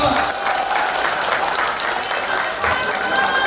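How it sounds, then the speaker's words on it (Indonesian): Audience applause in an indoor seminar room in Jakarta, loud dense clapping from a large crowd sustained throughout. "Jadi sekali lagi kita tepuk tangan dulu."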